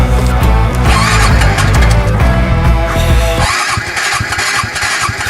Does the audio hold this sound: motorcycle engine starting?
yes